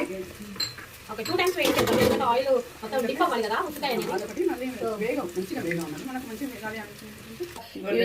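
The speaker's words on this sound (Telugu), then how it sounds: "ఉసిరికాయలు డీప్ ఫ్రై చేసుకోవాలన్నమాట" Indian gooseberries (amla) deep frying in hot oil on high heat give a steady, fairly loud sizzle and hiss, with pans clinking now and then, while people talk over it throughout.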